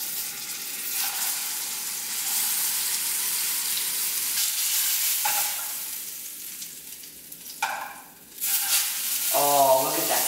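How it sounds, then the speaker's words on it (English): A burger patty sizzles in a hot oiled pan, a steady, close frying hiss with brief surges and a few handling clatters near the end. "get a really nice sear, and it's exactly how it is with a burger"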